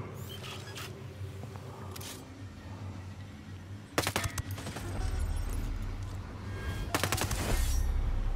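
Suppressed sync-shot gunfire in the video game Ghost Recon Breakpoint, a few quick muffled shot bursts with clicks over a low ambient game rumble that swells toward the end.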